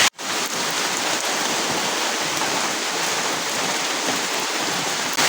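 Steady, dense rain pours down without a break, a broad hissing wash that fills the whole stretch with no voices.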